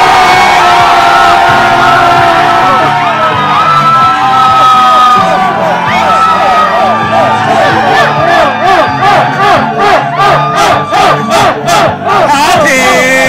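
A crowd of audience members cheers, whoops and shouts loudly for a contestant at a live game-show contest, sustained roaring that grows into rhythmic pulsing bursts.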